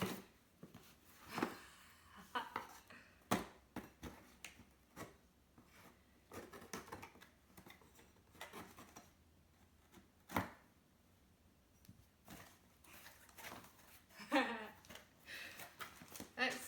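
A knife slicing open a reborn doll kit package: faint, irregular scraping and rubbing strokes with short sharp cuts and pauses, close by and quiet.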